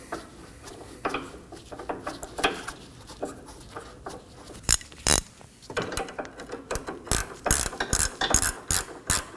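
A ratchet clicks repeatedly while loosening the nut on a Toyota Corolla front sway bar end link, close and loud, with bursts of rapid clicking that grow denser toward the end.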